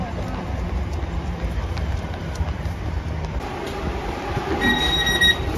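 A train arriving, with a continuous low rumbling roll throughout and thin metallic wheel squeals rising near the end.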